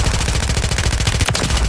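Rapid automatic gunfire from an AMR-9 sniper rifle in a Call of Duty-style shooter, a steady, loud stream of closely spaced shots with one sharp crack near the end.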